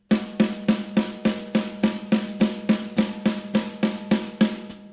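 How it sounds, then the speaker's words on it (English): An evenly spaced drum-kit pattern plays alone: about sixteen crisp hits in steady, even straight eighth notes with no swing. "straight eighth notes sound like this."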